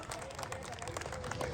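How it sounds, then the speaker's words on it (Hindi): An audience at a Hindi poetry recital claps together, a dense, even patter of many hands that keeps going steadily and stays fairly soft, like a crowd heard from a short distance. "इधर फिर से क्या तालियां बजाइए आप लोग"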